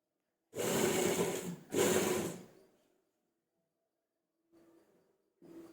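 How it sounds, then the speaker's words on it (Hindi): A sewing machine stitching a collar onto cloth runs in two close, loud bursts of whirring, then falls quiet before two fainter, shorter runs near the end. "अब यहाँ से हम पक्की सिलाई लगाना स्टार्ट करेंगे।"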